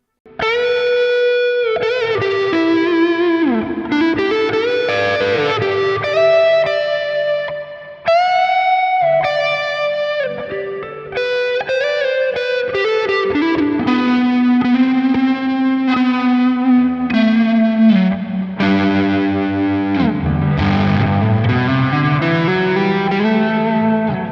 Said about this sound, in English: I've thrown the Minotaur back on with the reverb, same amp and cab setup